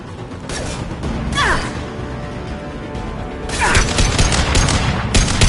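Gunfire erupts during a firefight in Mass Effect 2, with sharp bursts of shots and crashing impacts in two main clusters, loud over a steady background of game ambience.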